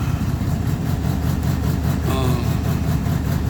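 A 1946 Chevrolet engine idles after a cold start on a chilly day, a close, steady low rumble with rhythmic pulsing throughout and a brief faint squeal midway.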